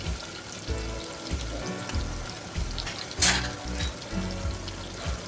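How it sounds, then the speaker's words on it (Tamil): Small onions and curry leaves are sautéing in a hot clay pot, giving a close crackling sizzle broken by repeated low scraping and stirring thuds. "சின்ன வெங்காயம், கருவேப்பிலை எல்லாம் ஒரு வதக்கி விட்டுறலாம்."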